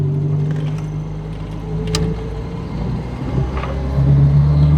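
A Dutch Reliant Robin three-wheeler drives along with a steady, moderately loud engine drone and road noise, the pitch rising slightly near the end, with no talking.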